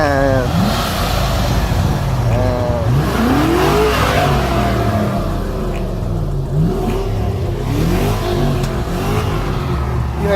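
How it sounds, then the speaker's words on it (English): A Lamborghini engine revs loudly and continuously, rising and falling in pitch, with small backfire pops and people talking over it. "You heard that little backfire?"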